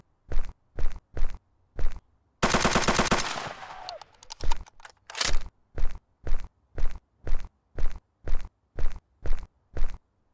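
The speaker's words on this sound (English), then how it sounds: "Thought I heard footsteps, dog." Footsteps thud in an even rhythm in a post-apocalyptic looter shooter game, sharp and close, briefly broken by a loud burst of rapid gunfire before the steady steps resume.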